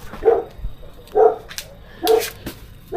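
A dog barks four times at a doorstep during a food delivery, short loud woofs spaced about a second apart, close by and without speech.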